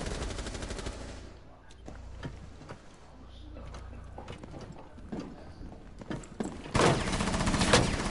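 Gunfire in a video game, with bursts of sharp, repeated shots that are sometimes rapid, ending in a loud sustained barrage; a person talks over parts of it.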